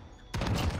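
A gun firing in the video game Destiny: after a brief quiet lead-in, a sudden loud burst of rapid shots carries on to the end.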